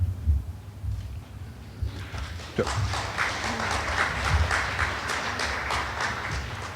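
Partway through, an audience at a primary election debate breaks into clapping after a candidate's closing thanks, the applause building quickly and then holding steady at moderate loudness, with low murmuring before it starts.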